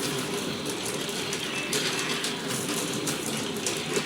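A coil winding machine winds wire around a round transformer core, giving a steady whirring, ratcheting mechanical hum that runs continuously at moderate loudness with no talk.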